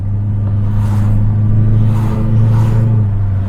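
A Ford Falcon XD with a 4.9-litre V8 pulls gently in second gear, a deep, even engine rumble heard from inside the cabin that rises and falls slightly without any sharp revving.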